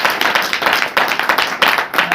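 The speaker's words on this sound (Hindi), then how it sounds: "ताली बजा करके" A church congregation at a Saturday prayer meeting claps in a quick, steady rhythm, a loud, close, continuous burst of hand claps.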